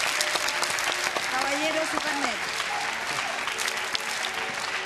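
A television talent show audience in Chile breaks into dense, sustained applause, the clapping filling the room while someone speaks briefly over it.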